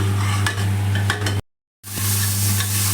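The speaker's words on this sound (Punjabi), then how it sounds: "ਆਪਾਂ ਨੇ ਮਸਾਲੇ ਨੂੰ ਚੰਗੀ ਤਰ੍ਹਾਂ ਰੀਝਾਂ ਦੇ ਨਾਲ ਭੁੰਨਣਾ ਹੈ" Masala roasts in a pan for an aloo soyabean curry, a dense close sizzle with stirring scrapes and a low steady hum, cut by a brief full silence midway before the frying resumes.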